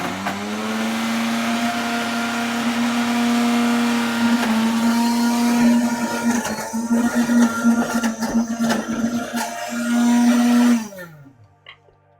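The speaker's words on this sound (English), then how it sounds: "So I'm going to give this a blend up now. It's going to be quite thick." A countertop blender churns a thick mixture, a loud steady motor whine that strains and wobbles as the blend thickens, then cuts off abruptly near the end, with no talking.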